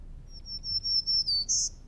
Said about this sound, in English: black-throated green warbler,